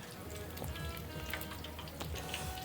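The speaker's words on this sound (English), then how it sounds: "Just a little chicken frying" Chicken pieces fry in hot oil in a basket, giving a steady close crackle and sizzle with scattered pops throughout.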